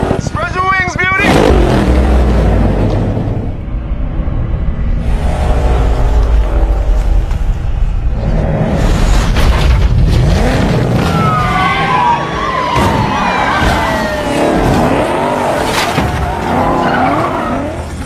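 Car chase with a silver Ford Mustang: engine roars, tires skid and a siren wails, loud and busy throughout, mixed with other vehicle noise and occasional voices.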